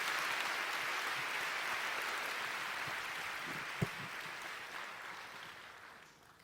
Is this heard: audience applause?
yes